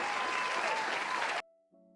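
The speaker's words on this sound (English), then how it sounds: "I'll give it an applause." A short burst of dense crowd applause, steady and fairly loud, that cuts off abruptly and is followed by a brief electronic tone.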